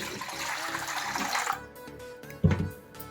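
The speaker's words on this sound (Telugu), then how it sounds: "అలాగే కొన్ని వాటర్ పోసుకుందాం." Water is poured into salted buttermilk for soaking banana flower, a close splashing, filling sound that fades after about a second and a half, followed by a brief knock.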